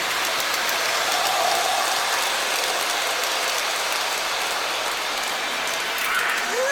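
A Lionel New Haven Alco model train rolls around a bend in the track, giving a steady, close, continuous rushing and rattling hiss of wheels on rails that holds at an even level throughout.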